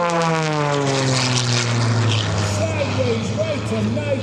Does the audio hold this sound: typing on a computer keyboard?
no